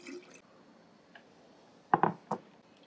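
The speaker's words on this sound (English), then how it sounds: "Then we are going to take some water to dilute this down." Water poured into a lavender lemonade mix, heard as a short burst of splashing and liquid pouring near the end, with quiet kitchen room tone before it.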